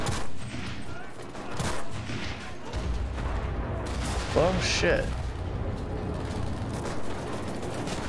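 Gunfire in the World War II shooter Enlisted, with repeated shots and bursts over battlefield rumble and distant booms, while a man briefly swears over the noise.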